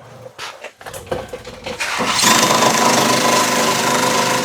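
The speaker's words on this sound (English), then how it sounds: "the wire brush is gonna" A wire brush scouring metal around a weld on a 1972 Super Beetle: a few knocks and clanks, then a loud, steady, harsh whirring scrape that runs on close to the end.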